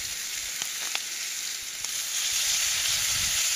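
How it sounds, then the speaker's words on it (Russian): Perch frying in a pan, a dense continuous sizzle and hiss close up, with a few faint pops and clicks, no talking. "Дальше дожарить до золотистой корочки"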